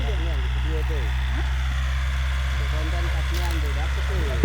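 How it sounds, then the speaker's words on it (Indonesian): A tractor tills farmland prepared for a corn crop, its engine a steady, continuous low drone while people talk over it. "Nah, itu adik saya namanya Denon, dia sedang traktor lahan."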